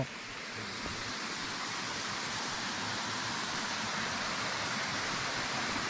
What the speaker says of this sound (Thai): ถึงแล้วอันนี้น้ำตกเป็นพบเหรอ